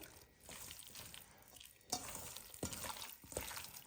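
Chicken being kneaded and mixed by hand with a chili-powder marinade for chicken pulav, giving wet squishing and stirring sounds in uneven bursts, close and fairly quiet, with no talking.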